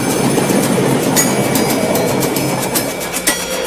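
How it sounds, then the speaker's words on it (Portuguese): A train running on rails, loud and close, with a steady rumble and rhythmic clicking of wheels over track joints throughout. "Na velocidade do trem-bala."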